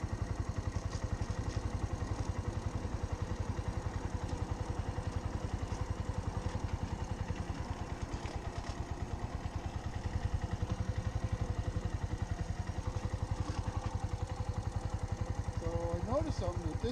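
A motorcycle engine idles and runs during a first riding lesson in New York, a continuous mid-pitched putter with steady pulses throughout, fairly close, and people talk over it.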